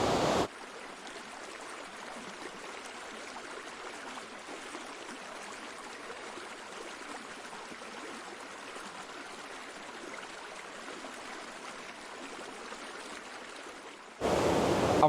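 A Scottish salmon river flowing steadily, a constant broadband rush of water that stays even and close throughout, with no voices.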